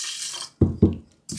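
Water poured over rice during washing, a short hiss of running water that stops, then two low sloshing splashes and the flow resuming, no talk.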